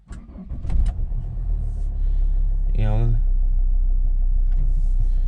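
A Volvo V60 D5 diesel engine cranks with a short whirring starter burst, catches and settles into a steady low idle rumble, close and continuous; a few clicks precede the start.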